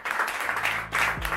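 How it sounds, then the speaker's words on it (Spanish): Brief clapping from people at a workshop tour, a short burst of hand claps with a low rumble near the end. "¡Eso se merece un aplauso, eh!"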